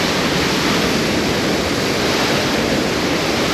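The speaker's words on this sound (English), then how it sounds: "now the wind's blowing on me again" Steady broadband rush of wind buffeting the microphone on a forest trail near Koosah and Sahalie Falls, loud and continuous throughout, blending with a constant roar of falling water.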